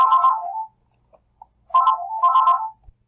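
An electronic phone ringtone plays a short melodic pattern, pauses, then repeats twice more, clear and close.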